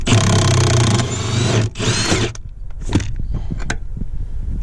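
A bolt on the driver's side front of a 2007 F250 6.8 V10 being loosened with a 24 millimeter socket, a loud power-tool whir for about two seconds, then scattered clicks and clanks close by.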